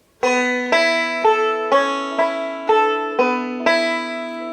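Bright plucked notes on a Blueridge banjo ring out one after another, about eight in a steady rhythm, with a subtle hammer-on note blending in, close and clear.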